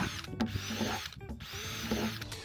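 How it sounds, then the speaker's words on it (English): A power drill bores holes in the bottom of a plastic water butt, its motor whirring in two bursts with a brief pause between them, close and fairly loud, with no talk. "I'm also drilling some holes in the bottom of the water butt"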